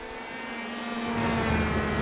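Open-wheel race cars at Indy in a racing video game: a loud, sustained engine whine that climbs in pitch and swells in volume toward the end.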